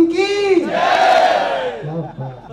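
At a political rally, a big crowd roars a one-word chant back in unison after a single voice calls out the lead line, then the cheer swells and slowly dies away.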